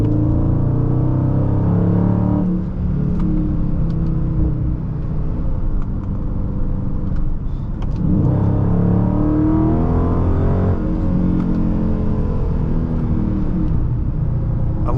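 A 2022 Dodge Charger Scat Pack with the 392 engine cruising on back roads, a loud steady engine drone with rising and falling revs as it accelerates through gears, heard from inside the car.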